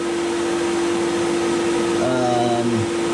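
A CNC mill fitted with a flat-tipped 90-degree chamfer mill runs a scallop toolpath, chamfering a small button pocket in a knife handle. It gives a loud, steady mechanical drone with a constant tone, and a few shifting pitches appear near the end.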